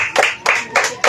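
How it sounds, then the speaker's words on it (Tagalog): Four sharp bursts of hand clapping at a church service, evenly spaced and fairly close, with no talking over them. "Salamat sa isang pumalakpak."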